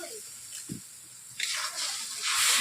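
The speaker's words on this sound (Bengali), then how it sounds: "কড়াইতে বসে আছে তার জন্য আমি অল্প করে জল দিয়ে দিচ্ছি" Water poured into a wok of turmeric and chili spice paste with onion, a broad splashing hiss that rises and grows louder toward the end after a faint start.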